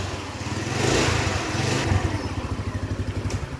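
A motorcycle engine runs close by after troubleshooting, idling in a steady rapid chug that builds slightly and then settles into an even pulsing putter.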